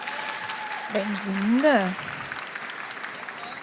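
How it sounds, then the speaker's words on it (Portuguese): Audience applause at the 2021 Bienal do Livro book fair rises briefly beneath a voice speaking over the room, then fades back into a low murmur. "Mais palmas, gente."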